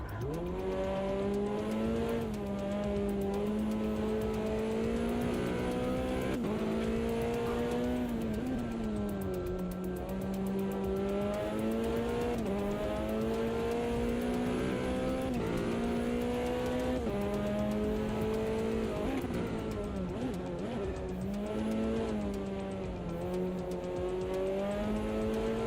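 Race cars in the Automobilista 2 racing game scream at high revs, the engine pitch climbing and dropping repeatedly through gear changes and braking, loud and continuous with no voices.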